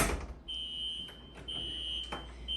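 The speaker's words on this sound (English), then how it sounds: "Apparently somebody pulled the fire alarm." A hotel fire alarm sounds a steady, shrill electronic tone, cutting in and out in short bursts over a low background hum, fairly faint and distant.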